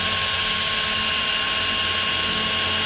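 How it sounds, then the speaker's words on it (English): A power drill bores a latch hole partway through a door, running as a steady, loud, continuous whine with no pauses and no voices. "we'll drill our latch hole out."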